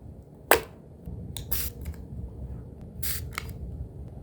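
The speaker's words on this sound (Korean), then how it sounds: "다음엔 스프레이입니다." Homemade hand sanitizer in a spray bottle is pumped, giving a few short, sharp hissing spritzes in two pairs, close and clear, over faint background noise.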